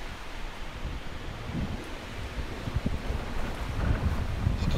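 Wind blows outdoors on a river while fishing from a raft, making a steady, low rumbling buffet against the microphone that grows slightly stronger toward the end.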